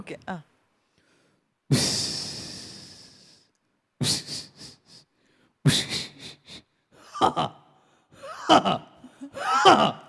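A comedian, performing on stage, imitates a train with his voice: a long breathy hiss, then a run of short, sharp chuffing bursts that pick up pace, close and loud with pauses between.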